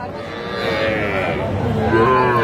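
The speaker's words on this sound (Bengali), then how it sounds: "ছোট ছোট ষাঁড় বাচ্চা আমরা দেখছিলাম।" Young bull calves at a Dhaka cattle market low in a drawn-out moo that rises and wavers over about two seconds, loud and near, over a murmur of crowd noise.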